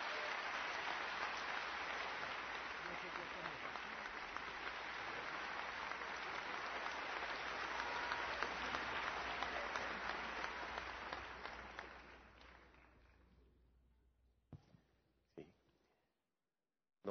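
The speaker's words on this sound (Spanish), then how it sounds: "Recíbalo con un fuerte aplauso, por favor." Applause from an audience at a Grupo Salinas launch event in Mexico welcomes a speaker. It is steady and fairly even for about twelve seconds, then fades out, with a few isolated claps at the end.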